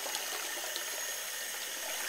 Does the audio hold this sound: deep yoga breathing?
no